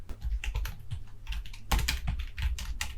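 Close, steady clatter of typing on a computer keyboard while entering data in Excel, quick irregular keystrokes continuing throughout with no voices.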